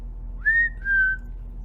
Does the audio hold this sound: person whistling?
yes